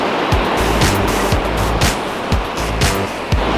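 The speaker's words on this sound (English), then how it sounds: "This is the COLCA River," The Colca River rushing along the floor of Colca Canyon in the Andes gives a loud, steady broadband roar of flowing water with brief knocks and thumps over it, and no talk is heard.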